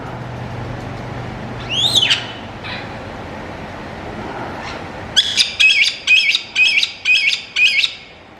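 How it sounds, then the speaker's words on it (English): Bird squawking inside a reptile lagoon at South of the Border, SC: one rising squawk, then a loud close run of seven harsh rhythmic squawks about half a second apart, over low background noise, with no talking. "It's as if this bird is trying to warn us."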